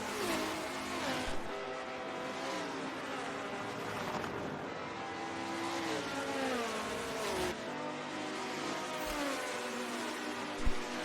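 Race car engines, including a Nismo, whine continuously in a sim racing game at Silverstone during a GT championship race, their pitch sweeping up and down through gear changes with one brief thump near the end.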